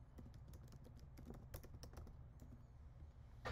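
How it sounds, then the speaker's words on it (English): Fingers type on a computer keyboard in a quiet room, a brisk, irregular stream of soft key clicks with a slightly louder clack at the very end. "I'm typing in the conclusion at the bottom of my writing space."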